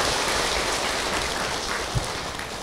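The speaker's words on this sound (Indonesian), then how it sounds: "Boleh kita tepuk tangan dulu dong untuk" Audience applause at an Islamic religious talk show, a steady dense wash of clapping from a crowd filling the whole moment without voices.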